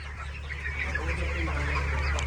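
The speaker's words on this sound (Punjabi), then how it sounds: "ਇੱਕ ਟਰੇ 'ਚ 30 ਚੂਚੇ ਆ" Dense, continuous chirping from a large crowd of young chicks being released from trays at a desi poultry farm, steady throughout over a low, constant hum.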